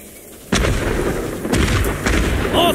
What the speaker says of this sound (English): All fireworks! On all sides!